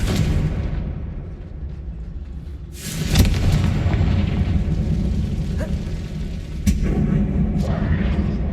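A Confringo spell explosion in Hogwarts Legacy, a loud sudden blast followed by a rumbling, crackling roar that lingers, with a second sharper burst later over a steady low background.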